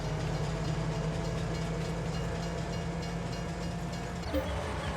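A freight train loaded with wood chips rolls along in Farming Simulator 22, a steady loud rumble with faint rhythmic clatter and hiss, ending in a short bump.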